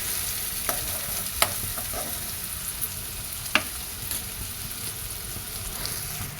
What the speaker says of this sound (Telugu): ఆనియన్ అయితే బాగా ఫ్రై అవ్వాలి.